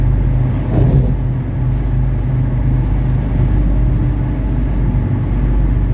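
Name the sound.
1979 Mercedes 300SD engine running during test drive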